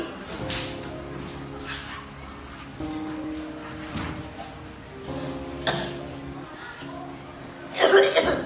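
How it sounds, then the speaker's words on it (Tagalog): Someone with a bad cough coughs repeatedly, in harsh bursts spread across the stretch with pauses between them, over quiet background music and a louder burst near the end. "Ang lala na talaga ng ubo ko."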